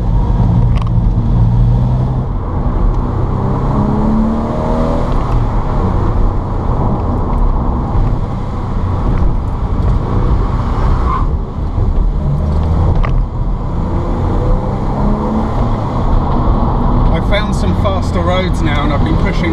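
Porsche 996 engine droning steadily from inside the open car while driving, a continuous loud engine and road roar with wind buffeting throughout, under a voice talking over it.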